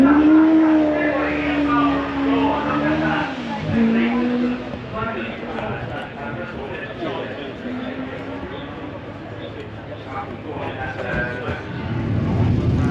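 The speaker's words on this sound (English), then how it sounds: "Then you have this Fraser Nash Le Mans replica," Engine of a classic Frazer Nash Le Mans replica sports car at a hillclimb event, a steady loud droning note that shifts pitch as it revs, with a voice talking over it.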